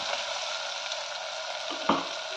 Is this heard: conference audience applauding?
no